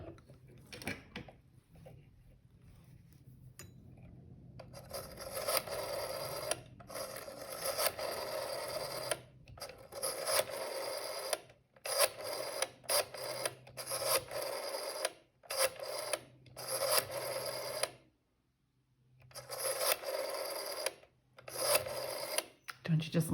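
A rotary dial telephone being dialed at an antique fair, a run of mechanical whirring and clicking bursts separated by short pauses, fairly close and clear, with faint low background noise.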